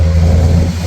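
A motorboat engine runs at full throttle with a loud, steady, deep roar and throbbing low rumble throughout, close by with no voices.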